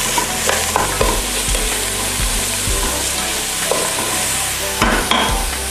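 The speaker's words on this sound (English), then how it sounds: "Sizzling away nicely." Ingredients for split pea soup sizzle steadily in a pot over high heat, with a spoon stirring and scraping now and then; close and continuous, no voices.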